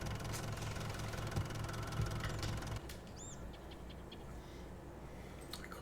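A truck engine idles steadily in Farming Simulator 22, a low continuous rumble with a slight knocking texture that drops a little in level midway and carries on evenly, with faint bird-like chirps above it.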